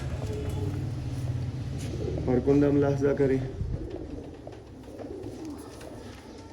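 A Sialkoti pigeon coos briefly in the middle, a soft throaty warble, while someone talks over outdoor background noise.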